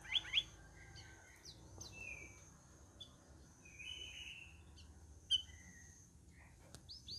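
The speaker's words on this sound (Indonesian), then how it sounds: "Oh, dengar suara Cak Rawis." A straw-headed bulbul (cucak rawis) gives scattered, faint whistled notes and chirps over a quiet, low background hum.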